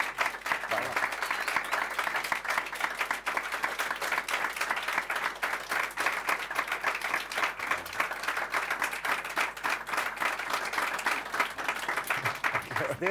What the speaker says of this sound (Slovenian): En aplavz, prosim, da sliši.